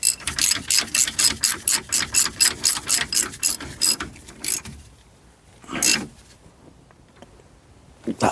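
A ratchet clicks rapidly and rhythmically as it tightens the front wheel bearing nut on a Peugeot 107, with about fifteen close, loud clicks, then a pause and a couple of isolated clicks.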